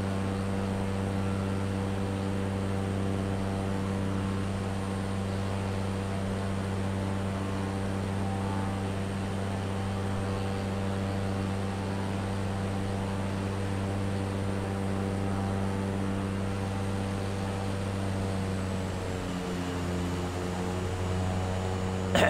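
Steady, loud droning engine hum of a light airplane in flight over Colwyn Bay on the Welsh coast, continuous and unchanging from inside the cabin, with a slight shift in tone near the end and no voices.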